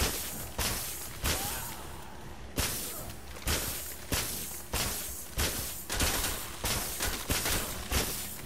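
A freeze gun fires repeatedly in a video game, about a dozen loud sharp blasts in an irregular rapid rhythm, each a bright burst with a short decaying tail.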